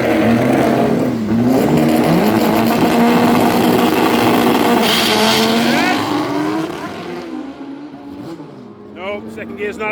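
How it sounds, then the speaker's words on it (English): A street car accelerates hard down a drag strip, its engine roaring and rising in pitch through the gears before fading as it pulls away, heard close and loud with a voice talking over it. "Second gear's not happy. Get in third, Matt."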